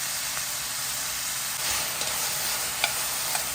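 Onions frying in hot oil with cumin and chili, a steady close sizzle with occasional small stirring clinks and pops, no talking.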